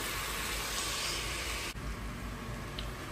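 Vegetables and spices sizzle in a hot pan, a steady, bright frying hiss that continues throughout, briefly dipping once before resuming, with no voices over it.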